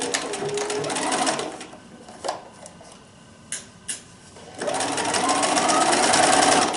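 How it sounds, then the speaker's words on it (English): A sewing machine stitches quilt binding under the presser foot, a close, rapid mechanical whir that stops for a few seconds with small handling clicks and then resumes steadily. "put it back underneath your presser foot, and then continue sewing"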